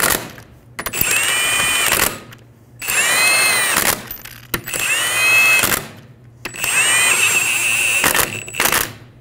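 A power tool runs on a Toyota Camry wheel, snugging down the lug nuts in four loud bursts of whirring with short gaps between them.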